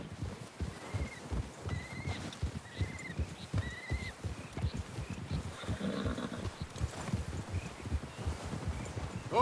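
Horses set out in the Red Dead Redemption 2 video game, with steady hoofbeats, several neighs and snorts, and riders' movement at close range.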